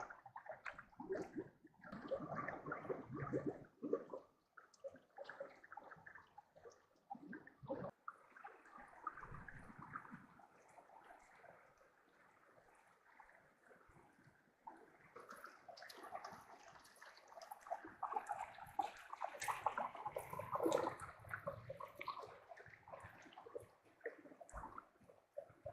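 Water laps and sloshes in a natural hot spring soaking pool with a rocky, sandy bottom, a gentle irregular splashing and gurgling that stays fairly faint and close for the whole stretch, with no talking.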